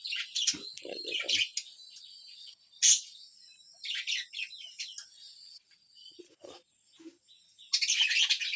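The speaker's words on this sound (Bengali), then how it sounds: "এই দেখুন আমার সবগুলো পাখি বের হয়ে গেছে" Pet budgerigars chirp and twitter in bursts, with a few louder calls near the start and a dense flurry at the end, close by and alone.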